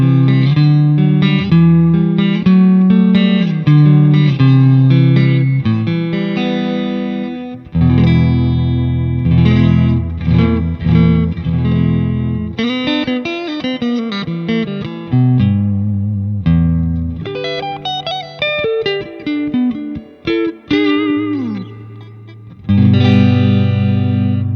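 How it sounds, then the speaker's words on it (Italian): A guitar plays through a Sonicake Ampcube amp set to a clean jazz chorus tone: shimmering chords and single notes ring out loud and close, with short pauses between phrases. "cominciamo con un suono pulito, un jazz chorus"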